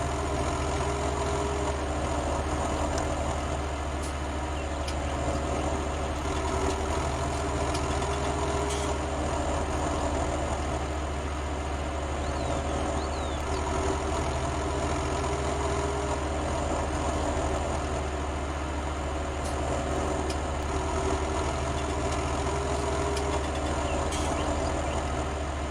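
A tractor engine drones steadily as it hauls uphill on a 1961 farm, a low, constant labouring rumble that holds alone without any break for the whole stretch.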